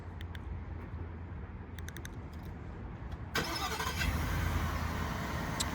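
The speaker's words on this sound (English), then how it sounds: "Let's do a little cold start here." A 2023 Ford F-150 with the 5.0L V8 cold-starts after a few seconds of near quiet. It fires up suddenly and loud, then settles into a strong, steady rumbling idle close by.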